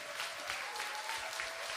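Audience applause at a Tónaflóð touring theatre show in Bíldudalur, Iceland: steady, dense clapping from a crowd that holds at an even, moderate loudness for the whole stretch, with no voices over it.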